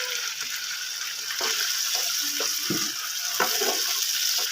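Finely chopped medium tomatoes and onions fry in a pan on a tawa for chicken liver, with a loud continuous sizzle and scattered clinks and scrapes from stirring. No one speaks.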